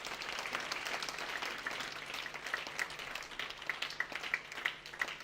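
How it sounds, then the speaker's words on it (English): A crowd at a youth hangout applauds its mentors: soft, distant clapping with a few sharper individual claps standing out against a low background hum. "Give your mentors a round of applause."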